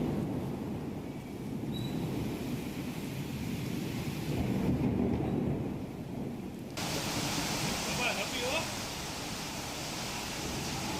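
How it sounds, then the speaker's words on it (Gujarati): Steady, dense rush of heavy rain in Rajkot, Gujarat, throughout, a broad constant hiss that grows brighter and louder partway through. "ભારે વરસાદની શરૂઆત થઈ છે"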